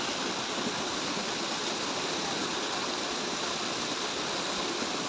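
Mountain spring water flows steadily at a farm source used for drinking, a constant, dense rushing wash heard close and unbroken, with no voices.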